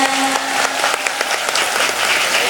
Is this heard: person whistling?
no